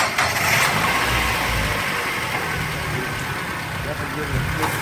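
An Infiniti G37 with a likely ECU tune and worn motor mounts idles nearby, giving a steady low engine rumble throughout with no talking over it.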